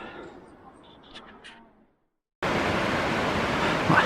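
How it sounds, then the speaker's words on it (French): Roaring mountain waterfall by a dam on a Pyrenees hike near the Oô and Espingo lakes, bursting in loud and steady as broadband rushing water after quiet talk and a brief silence. "Ouais, c'est du costaud hein, la cascade"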